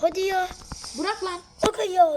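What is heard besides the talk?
No everyday noise stands out behind the speech.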